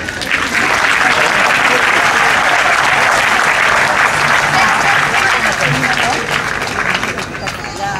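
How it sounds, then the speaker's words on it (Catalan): A large audience at a Festa Major town proclamation in Puig-reig, 2014, breaks into loud, sustained applause for the students about to speak. The dense clapping holds steady for the whole stretch, with no talking over it. "Demano un aplaudiment pels nois i noies que ara intervindran."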